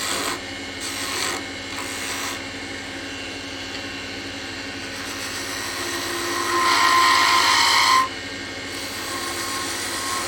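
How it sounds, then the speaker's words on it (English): A lathe tool takes a light peeling cut on a turned wooden snowman box, a steady rasping scrape running through the clip that swells louder and brighter near the end before cutting off abruptly. "We're now going to come in and do another little peeling cut right here."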